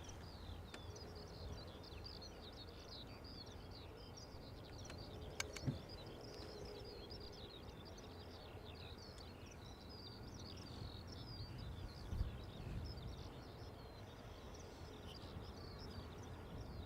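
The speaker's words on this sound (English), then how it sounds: "Birds are making lots of noise." Small birds chirping and twittering steadily near Dublin Airport, faint and somewhat distant over a low, constant background rumble, with a couple of brief sharp clicks.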